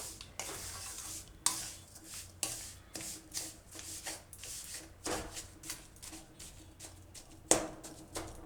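Jaggery from an ordinary tin is stirred into a hot mixture, giving repeated scraping and swishing strokes in an irregular rhythm, close and fairly quiet, with no talking.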